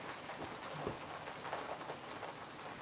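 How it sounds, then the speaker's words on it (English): Steady pattering of small ice pellets striking a surface, a dense continuous clatter heard from indoors with no voices. "It's actually hailing."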